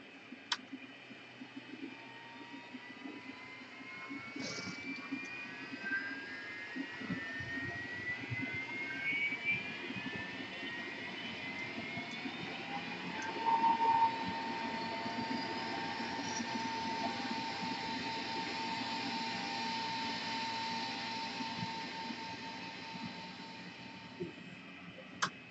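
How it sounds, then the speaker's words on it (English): An aircraft engine starts in a flight simulator game, a quiet steady whine and hum with slowly rising tones, plus occasional faint clicks. "let's get the engine started first"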